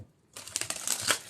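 Tarot cards shuffled by hand, a short riffling flurry of crisp papery flicks that starts abruptly after a brief quiet moment and builds close to the listener.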